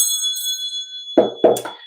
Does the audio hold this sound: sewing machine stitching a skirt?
no